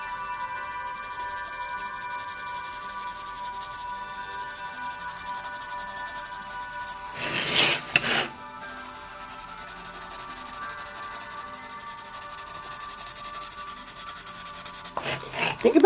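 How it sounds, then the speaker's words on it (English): A drawing pencil or similar art tool being sharpened, with steady close scraping and rubbing throughout, one louder burst of grinding midway and another at the end. "I might need to sharpen. Here, I'll sharpen in front of you."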